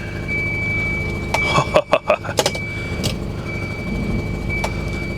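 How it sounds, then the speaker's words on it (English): A 1985 Volvo 245 engine runs with an exhaust leak, idling steadily up close before a brief burst of sharp revving pulses, then settling back to a rough idle; no one speaks. "Definitely an exhaust leak."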